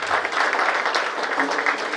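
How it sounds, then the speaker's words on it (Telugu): A crowd claps together at the launch of a resort, a brisk, dense burst of applause that stays loud and even throughout the short stretch. "ఒక్కసారి క్లాప్స్ కొట్టాలి"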